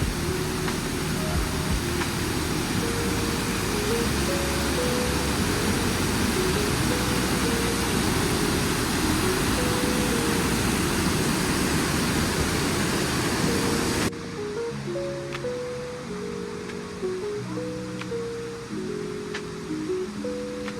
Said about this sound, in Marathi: सुंदर धबधबा.